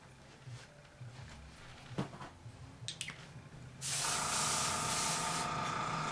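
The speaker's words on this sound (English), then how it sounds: "So I got my spray adhesive here." A can of spray adhesive hisses in one steady, loud burst that starts partway through, after some quiet handling and rustling.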